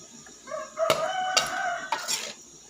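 A rooster crows loudly and close by, one drawn-out cock-a-doodle-doo call with a few short clucks around it, heard alone over faint background noise.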